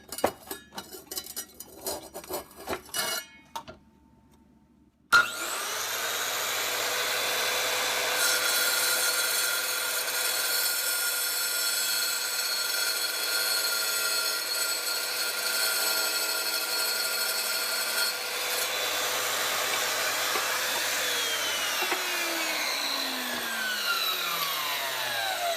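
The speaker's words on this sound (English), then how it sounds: "I made my first plunge cut." Kobalt 7-inch tile wet saw plunging into tile, a steady loud whining grind that starts abruptly after a few seconds of quieter handling noise, holding for about seventeen seconds before easing off as the blade winds down.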